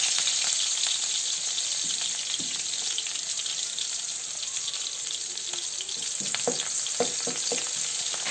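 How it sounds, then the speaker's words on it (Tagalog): Sliced onion drops into hot oil and fries with a loud, continuous sizzle, close and steady, while a few spatula taps and scrapes come toward the end. "Kung mainit na ang mantika, ilagay na natin ang hiniwang sibuyas."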